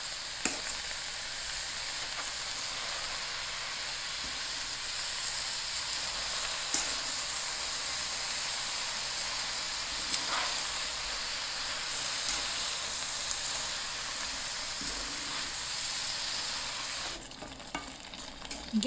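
Brown and white sugar syrup with ginger bubbles and simmers in a pot with a steady, soft fizzing hiss and occasional faint clicks, close by with no talk.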